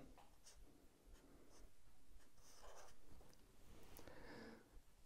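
A pen scratches across a sheet of paper in quiet, close strokes with short pauses between them. Nobody speaks.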